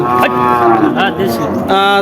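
A native cow at a livestock market lets out a loud, close, drawn-out moo, followed by a shorter second call.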